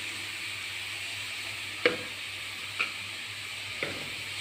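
Crushed chilli stirred into moringa leaf and egg thoran frying in a pan, a steady sizzle with three distinct scraping knocks of the spoon against the pan, no voices.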